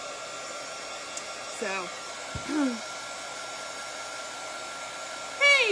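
A hair dryer runs steadily from start to finish as a constant close airy whir, with a few faint squeaky chirps over it and a single brief spoken word.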